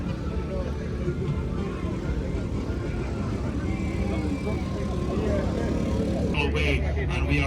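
Porsche Carrera Cup race cars sweep past turn 7 at Sebring in a steady, loud engine roar that holds for several seconds, with a commentator talking over it.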